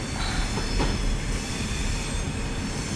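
Class 350 electric multiple unit train in Train Simulator 2018 slowing under braking on the Rugby to Stafford line, a steady rumbling wheel-and-rail roar with faint squeal, continuous and close throughout.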